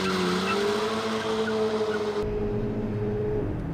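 A Hyundai i30 N hot hatch on a race track, engine droning loudly with a high tire squeal as the rear slides, abruptly dropping to a lower rumble near the end; no talk.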